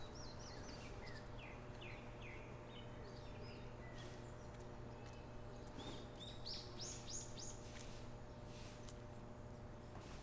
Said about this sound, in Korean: 숲이 가까워졌음을 알리는 새소리가 들리실 거예요